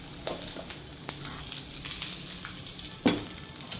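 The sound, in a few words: tempering spices sizzling in oil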